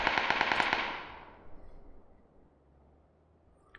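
A rapid burst of gunfire in PlayerUnknown's Battlegrounds rattles out at the start, then fades into a decaying echo and near silence.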